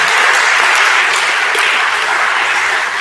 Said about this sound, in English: Can we please give our startups another round of applause?